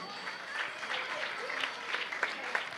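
A steady, dense round of clapping from an audience at the Purnapramati Utsava cultural festival honours children after a dance performance. It is moderately loud and continues evenly throughout, with no clear speech over it.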